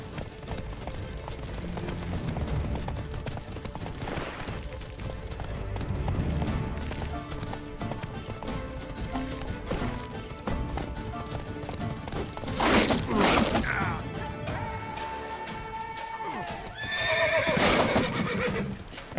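A horse in The Witcher 3 whinnies and neighs loudly twice over clip-clopping hooves, set against a game soundtrack with scattered combat noises.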